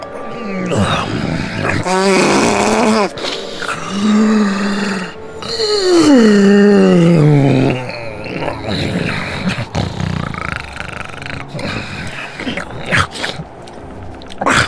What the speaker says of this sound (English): Someone snoring in there, and burping, and other things.